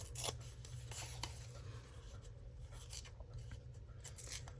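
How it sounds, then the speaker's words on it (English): Scissors trim the hard edge off a sheet of gold- and mustard-yellow painted background paper, making quiet, close, irregular snips and papery scraping. "I may need to trim off some of this hard edge."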